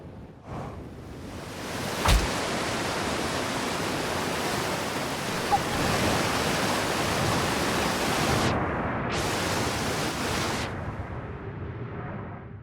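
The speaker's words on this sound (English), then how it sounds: "Wait, there's a waterfall." A waterfall in the Outer Wilds video game roars as a steady, dense broadband rush, loud and close, with a brief thump early on and a couple of short dips near the end.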